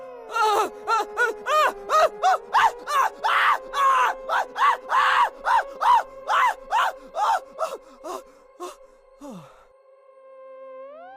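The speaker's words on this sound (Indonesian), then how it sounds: "Surya menjerit sekencang-kencangnya" A man in a horror story screams in terror as loudly as he can, a loud series of about twenty rapid, rhythmic strained vocal bursts over a low steady drone, thinning out and ending in a falling cry.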